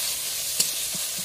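Crabs frying in a pan in a Sundarbans village kitchen give a steady, close hiss of sizzling oil, broken by a few soft bumps as the pieces shift.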